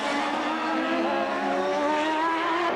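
IndyCar-style race cars scream past on a flying lap at the 1998 Detroit Grand Prix, a loud sustained engine wail with rising pitch that fills the whole stretch.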